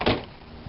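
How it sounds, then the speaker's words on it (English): A single solid thump as the door of a 1998 Chevy Blazer swings shut, close and short, followed by a faint trailing click. "Let's close the door."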